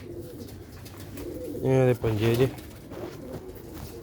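A black-faced pigeon gives two deep, resonant coos in quick succession, close and fairly loud, with a voice speaking briefly nearby against a low background hum.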